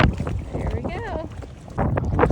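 Gusty wind buffets the microphone while kayaking on Lake Havasu, with paddle and water splashes and a voice talking over it.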